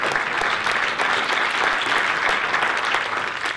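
Applause from an audience at a film screening talk, a dense, sustained round of clapping from a large crowd that fills the room at a steady level throughout.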